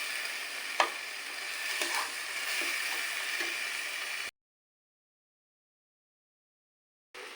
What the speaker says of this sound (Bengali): আর এখানে আমার বেটে রাখা আদা আছে, দিয়ে দিলাম। এটাকে আমি ভালো করে কষিয়ে নেব।